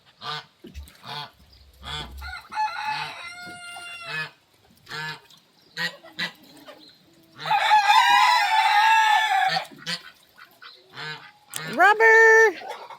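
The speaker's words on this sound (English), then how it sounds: "Get out there, Goose." A goose and several chickens call in a farmyard, with loud honks and clucks in repeated bursts and a strong crowing-like cry near the end, between quieter gaps and some nearby human talk.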